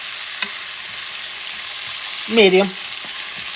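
Barley and rib stew simmers in a pot over lowered heat, a soft steady sizzle running throughout, broken by a brief louder clatter of stirring near the end while a voice speaks a word.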